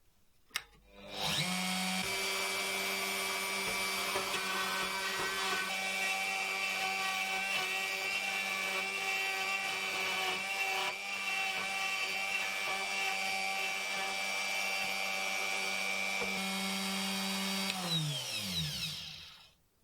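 A Pantorouter cuts a mortise in wood. The motor spins up to a steady, loud, high-pitched whine that holds for about sixteen seconds with slight cutting variations, then winds down, with no talking.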